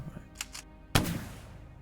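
A broom-shaped gun fires in the puzzle game Moncage: two soft whooshes, then one sharp, close shot with a short ringing tail.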